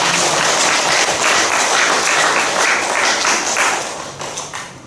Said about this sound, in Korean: 그들을 위해서 박수 한번 칩시다